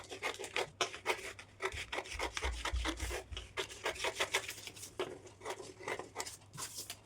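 Scissors cut through blouse fabric in quick, rhythmic rasping strokes, close and continuous, with no speech.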